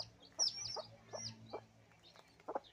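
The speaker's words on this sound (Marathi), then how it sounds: "बघा कोंबडी कशी हे करते." A free-range village hen raising chicks clucks in a series of short, repeated calls, fairly close, with a steady low hum underneath and no talking.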